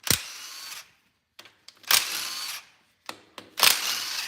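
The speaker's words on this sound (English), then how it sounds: "I do really like that Milwaukee gun, but there's some bolts that won't take it" A Milwaukee impact gun works bolts loose on a 2019 6.7 Cummins engine, firing in three short, loud bursts of hammering whir close by, with brief quiet gaps and small clicks between them.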